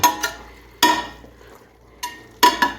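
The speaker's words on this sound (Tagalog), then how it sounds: "Gigisa na natin at para maluto na mamaya." Goat kaldereta is sautéed in a pan, with sharp metallic clanks and scrapes of a utensil against the pan in irregular bursts over a faint sizzle, close and fairly loud, with no talking.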